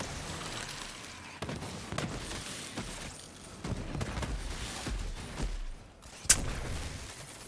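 Gunfire in the video game Borderlands 3, a scattered run of sharp shots and crackling impacts at moderate level with a bright burst near the end, over a continuous game background.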